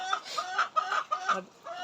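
Hens on a poultry farm cluck in short, repeated bursts, close and fairly clear, with brief pauses between calls.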